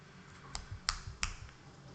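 A few sharp, sparse keystrokes click on a computer keyboard in a quiet room, three distinct taps standing out over faint low background noise.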